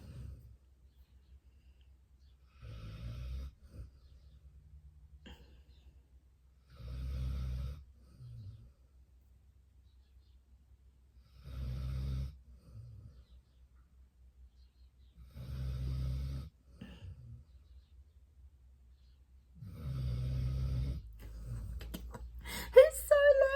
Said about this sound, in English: Oh, the snoring. It's so frustrating.